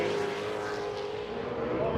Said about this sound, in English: you hear that truck on the rev limit over there